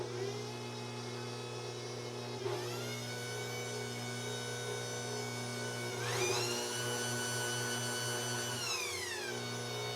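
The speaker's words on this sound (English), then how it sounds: "So pop that in there and whir your mixer around again." An electric mixer whirring icing sugar into frosting in a bowl, a steady close motor drone that rises in pitch twice as the speed is turned up, then eases back down.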